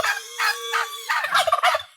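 Turkeys on a small farm gobble in a quick series of loud, warbling calls, several bursts rolling one after another close by.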